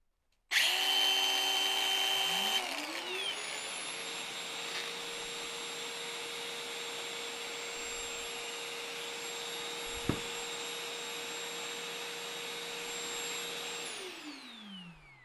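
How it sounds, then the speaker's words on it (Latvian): A vacuum cleaner used for dust extraction with a power tool such as an angle grinder powers up, runs at a loud, steady drone for about twelve seconds with one brief knock partway through, then winds down. "Un darbināt kopā ar puteksūcēju."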